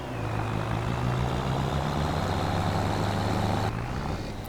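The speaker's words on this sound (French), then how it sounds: "Il a un son enfoiré ce tracteur aussi, j'adore." Tractor engine in the farming video game Farming Simulator 25 labouring uphill, a steady low droning rumble with a sustained hum that holds level, then shifts slightly near the end.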